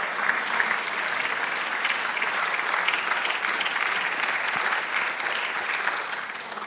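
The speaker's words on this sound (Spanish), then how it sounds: "Dele otro aplauso al Señor." Continuous crowd applause from a church congregation, dense and sustained clapping from many people, holding steady throughout before easing slightly at the end.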